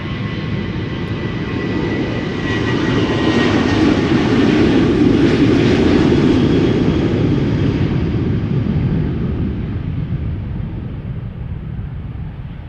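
KLM Boeing 737-800 departing Schiphol for Dublin: a broad jet roar that builds to a loud peak and then fades gradually as the plane climbs away.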